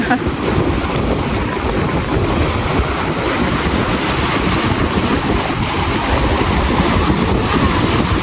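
Continuous rough rush of sea waves and wind buffeting the microphone at a beach, loud and steady throughout with no pauses.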